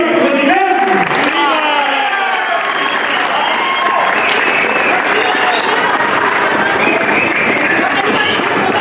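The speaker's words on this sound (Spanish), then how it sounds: "para que pido un buen aplauso" Big crowd applause with shouting and cheering at a Chinelos community festival in Cocotitlán, a dense roar that runs the whole time while voices call out over it.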